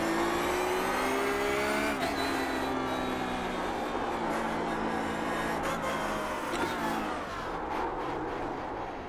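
Race car engine in the iRacing sim game, loud and continuous, its high whining pitch climbing and dropping through gear shifts and revs, with no speech over it.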